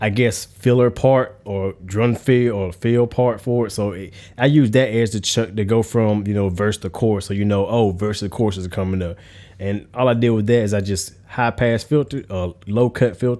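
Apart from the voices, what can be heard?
No everyday noise stands out behind the speech.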